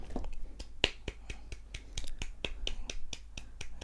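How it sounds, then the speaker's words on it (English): A run of sharp, dry hand claps or snaps in a home music studio, about a dozen evenly spaced crisp hits close to the microphone over a faint background. "give you a little clap for learning that"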